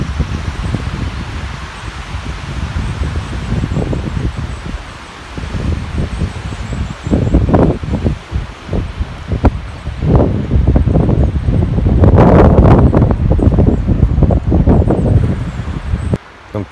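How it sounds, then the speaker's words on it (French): Strong morning wind gusting around a bivouac with a DD Hammocks tarp, a steady outdoor roar with rustling bursts and flapping surges, loudest near the end, close to the microphone with no talk. "Beaucoup de vent ce matin en se levant."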